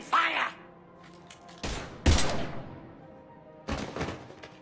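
Gunfire in the Mass Effect 3 video game, several loud bursts of shots with gaps between them, close and forceful, with a brief cry at the start.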